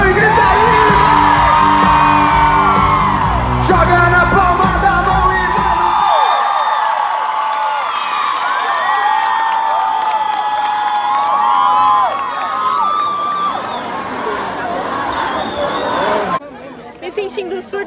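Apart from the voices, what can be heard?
concert crowd shouting and cheering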